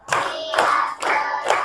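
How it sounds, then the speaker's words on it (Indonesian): A class of children claps hands in unison, a set of four quick, even group claps close by, each blended with a faint murmur of young voices. "Tepuk 5."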